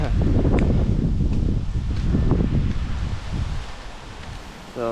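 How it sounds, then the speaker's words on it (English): Strong wind gusts and buffets across the microphone in a continuous roar, with rustling of spruce branches on a zipline throughout and no speech. "it's too windy. It's blowing them right at the line"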